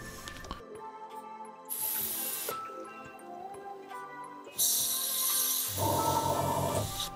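An Iwata airbrush fitted with a 0.3 needle sprays Ammo Mig shader at low air pressure in short bursts of airy hiss, interrupted by small clicks and mechanical handling noises, with no voices.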